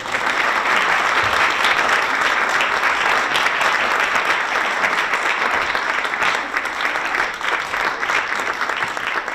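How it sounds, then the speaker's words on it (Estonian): Sustained, dense applause from a crowd at the Raplamaa Kultuurisammas 2024 award ceremony, steady and loud for the full duration with no speech over it. "Palun teeme talle selle eest ka ühe aplausi"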